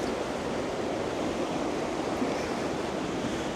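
Sea waves wash steadily along the Blackpool promenade, a broad continuous surf hiss with gentle swells and some wind noise, with no voices over it.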